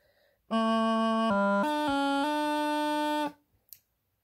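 A bagpipe practice chanter plays one sustained D that steps quickly through a short grace-note flourish to C and back, then holds steady and stops, alone and close.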